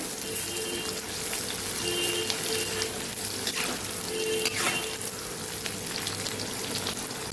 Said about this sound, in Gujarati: બસ આવી રીતે ફેરવતા ફેરવતા આપણે તળી લેવાની છે